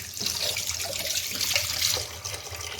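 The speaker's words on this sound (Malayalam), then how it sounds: "വെള്ളം ഒഴിച്ചിട്ടേ അതിൻ്റെ ഗട്ടിയൊക്കെ കളയണം." Running tap water splashes steadily into a kitchen sink while vegetables and green chillies are washed, a continuous broadband hiss with no talking.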